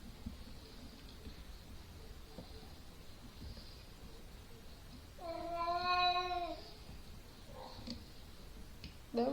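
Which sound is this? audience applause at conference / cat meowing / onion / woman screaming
cat meowing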